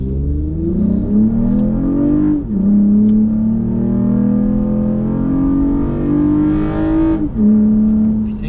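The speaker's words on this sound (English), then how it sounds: "We're still rocking the car in sport mode" A tuned Toyota Camry in sport mode pulls away hard from a standing start, its engine rising in pitch through the gears with two clear upshifts and a loud, close, droning rev.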